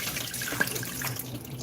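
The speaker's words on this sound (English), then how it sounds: "Pour this water off of it." Water poured off washed chicken feet into a sink, a steady close splashing stream with a faint drip, no voices.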